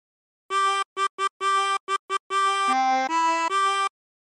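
A chromatic harmonica plays a phrase of the sea shanty Drunken Sailor as a run of short and held single notes, clean, close and alone.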